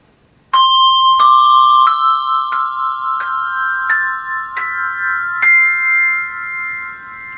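A set of handbells rung one after another in a slow, steady descending sequence of eight clear, close strikes, each tone ringing on and overlapping the next.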